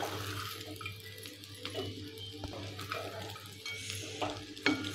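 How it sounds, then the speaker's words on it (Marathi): A spoon stirs poha with sautéed potato, peanuts and cashews in a pan, giving soft scraping and faint sizzling with a few light clinks, quiet and close. "आता हे सर्व साहित्य व्यवस्थित मिक्स करून घ्यायचे आहे."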